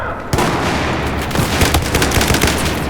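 Rapid automatic gunfire in Battlefield 4 crackles in loud bursts after a brief quiet start, dense and continuous for a few seconds.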